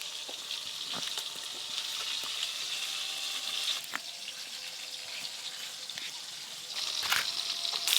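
Bachi river fish fry in a pan with a steady, close hiss and crackle, with occasional sharper pops and a brief clatter near the end.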